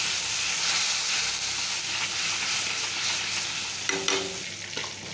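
Fish and spices frying in a pan with water just added, a dense continuous sizzle and hiss while being stirred, with a few scraping clinks of the utensil near the end.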